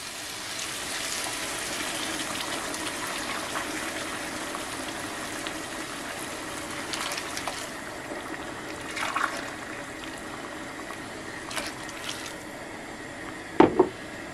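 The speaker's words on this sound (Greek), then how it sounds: "Και θα βάλουμε και 3 φλιτζάνια νερό." Hot water is poured into a cooking pot holding orzo and tomato juice, a sustained close gushing splash that tapers into a few lighter splashes and clinks near the end, with no speech.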